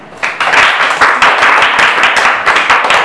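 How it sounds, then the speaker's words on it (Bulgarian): Audience applause at an autumn pocket festival event, a dense burst of many hands clapping that starts abruptly and holds steady and loud for about three seconds. "Аплодисменти!"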